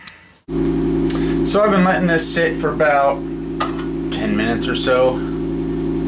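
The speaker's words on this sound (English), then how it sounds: "You can also hear the fan going in the background." Electric fan running for ventilation during AR-15 magazine maintenance: a steady, loud hum with a constant tonal drone throughout, underneath a person talking.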